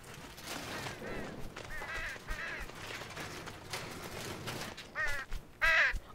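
A crow-like bird caws in the video game Unravel, a few harsh repeated calls that grow louder and clearer toward the end, set against a busy background of game ambience.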